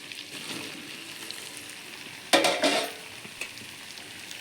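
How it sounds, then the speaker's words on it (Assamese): Chunks of taro dropped into a pot of frying pork, a sudden loud sizzle and clatter that flares up, then settles back into a steady quiet frying crackle. "এতিয়া মই ইয়াত কচুখিনি দিছোঁ।"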